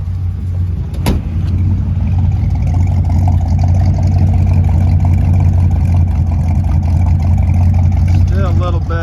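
A 1955 Ford 292 Y-block V8 engine with a Summit 500 cfm electric-choke carburetor idling steadily at about 700 rpm with a deep, even rumble, close and loud throughout, with a brief sharp click near the start.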